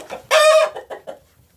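A backyard flock of chickens clucks close by, with one loud drawn-out squawk from a hen followed by several short clucks and softer murmurs.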